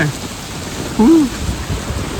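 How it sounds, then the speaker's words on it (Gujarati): Heavy rain lashing down during a windstorm in Patan, a steady loud broadband wash with a brief tonal whine rising over it midway. "તમે જુઓ તો ખરા યાર કઈ રીતેનું વાવાઝોડું છે"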